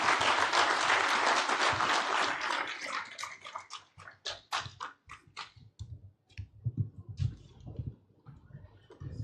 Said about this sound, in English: Another round of applause for Dr. Diora.